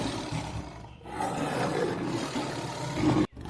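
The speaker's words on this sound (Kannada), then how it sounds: "ಸಿಂಹವು ಗರ್ಜಿಸಿತು." A cartoon lion roars in a Kannada children's forest story about a lion and a fox, giving one loud, rough, sustained roar that fills about three seconds before cutting off sharply.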